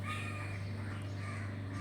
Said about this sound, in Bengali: এই দেখো পাখিগুলো কত পাখি